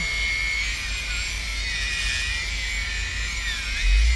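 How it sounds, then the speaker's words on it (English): Four motors of an old 3DR Iris drone spinning up on the bench, a steady high-pitched whine with wavering tones from each motor running at a different speed, sustained and close. "You can hear the motors all spinning different, so it's working."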